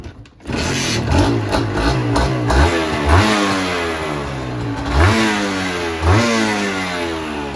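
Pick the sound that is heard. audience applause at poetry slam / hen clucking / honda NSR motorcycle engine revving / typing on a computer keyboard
honda NSR motorcycle engine revving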